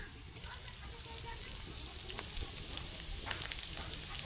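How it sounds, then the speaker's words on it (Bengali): Chopped garlic and cumin frying in mustard oil, a soft continuous sizzle with faint crackles, heard under someone talking. "রসুনটা একটু ভাজা ভাজা হয়ে এলে পেঁয়াজ কুচি দেব।"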